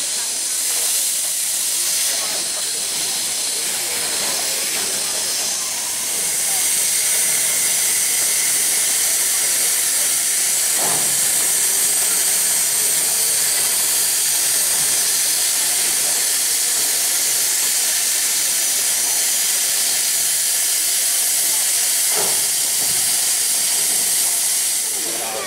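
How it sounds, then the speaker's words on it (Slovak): A steam locomotive's drain cocks vent steam, producing a loud, continuous hiss that fills the whole stretch and swells slightly partway through, with a couple of faint thumps underneath. "obsluha tejto lokomotívy odplýva tzv. Odvodňovacie kohúty, z ktorých unikala para, aby nedošlo k poškodeniu parného stroja"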